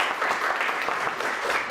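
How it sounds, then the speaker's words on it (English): An audience at a technical conference applauds a speaker with brief, steady, dense clapping from a room full of people, heard alone without speech. "you may clap for the speaker"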